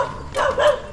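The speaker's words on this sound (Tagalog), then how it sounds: "maraming aso." Two quick, close barks from a dog at a house where many dogs are kept, loud and clear, following one another within a second.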